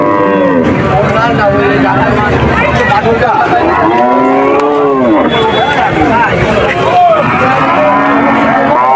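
Loud, close cows moo repeatedly at a cattle market, deep drawn-out lows overlapping one another, with a busy crowd murmuring underneath.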